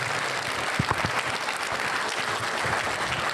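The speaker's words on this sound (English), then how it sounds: "Ladies and gentlemen, let's give all of our candidates a big round of applause." Audience applause for political candidates at a county meet-the-candidate forum, a steady wash of many hands clapping filling the room for its whole length, with no talk over it.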